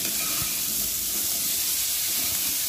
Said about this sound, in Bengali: নুনটা দিয়ে আমি আলুটাকে ভেজে নেব 2 থেকে 3 মিনিট।